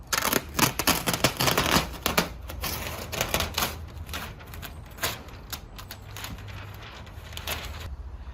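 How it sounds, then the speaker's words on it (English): A sharp utility knife slicing housewrap at a window opening, a quick series of close crisp ticking and snipping strokes, denser at first, then sparser clicks with a faint hum underneath. "I was using the wrong knife to cut this."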